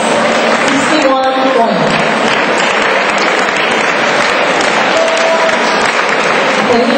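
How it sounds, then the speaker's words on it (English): A room full of people applauds at an awards ceremony for math olympiad winners, with loud, dense, continuous clapping throughout and a brief voice rising over it early on. "Round of applause, guys."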